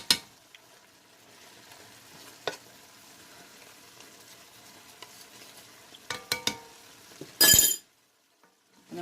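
Tomato paste in a shrimp filé gumbo pot gives a quiet sizzle with occasional utensil taps and scrapes as it is stirred, then a short loud burst of clatter near the end.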